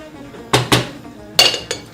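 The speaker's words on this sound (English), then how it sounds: "If you haven't got a lid, we can't find one. We're just going to use a plate." A plate set over a pan as a makeshift lid while cooking Moroccan chicken gives four sharp ceramic-on-metal clinks, two close together, a pause, then two more.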